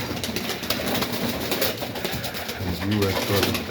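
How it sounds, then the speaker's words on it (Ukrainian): Domestic pigeons coo softly in a loft, low throaty calls surfacing near the end over ambient noise and some faint voices. "а голубик"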